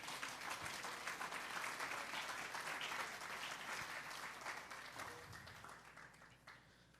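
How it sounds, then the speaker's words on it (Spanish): A church congregation breaks into sustained, dense applause, many hands clapping together at a steady level before gradually thinning out and fading toward the end. "Vamos a darle un fuerte aplauso al Señor."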